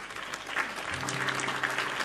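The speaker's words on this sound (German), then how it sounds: "Atti, komm, gib dir mal einen Applaus." Applause at an evening music show rises in a dense wash of clapping from the crowd, with a faint sung or sustained tone entering under it partway through.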